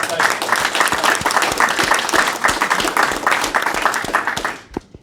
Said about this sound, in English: I'd like to give you another round of applause, Charlie.